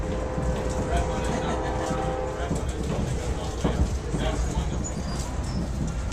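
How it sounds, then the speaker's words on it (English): Passenger train riding between Raleigh and Durham, a steady broadband rumble of wheels on track and cabin noise filling the whole stretch, with people chatting faintly in the background. "We are on the train to Durham,"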